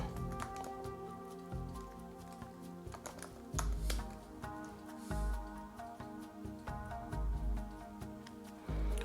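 Rapid clicking of keys on a computer keyboard as a web search is typed, close and quiet, with bursts of keystrokes and brief pauses between them.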